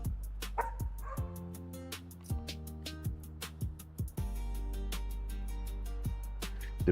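A big dog barks repeatedly indoors in the early morning, loud close yips and woofs in an irregular rhythm, with a fan humming steadily underneath.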